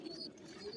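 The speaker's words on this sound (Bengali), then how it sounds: "বিদেশি সব ধরনের কবুতর আছে" Pigeons coo at a busy pigeon market in Tulsihat, where many foreign breeds are sold; a short, soft burst of cooing and bird calls is heard against faint crowd murmur.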